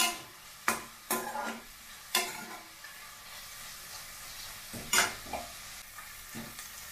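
Whole spices, including cloves and star anise, fry in hot oil in a pan while being stirred, with a low continuous sizzle broken by several sharp scraping knocks of a spoon.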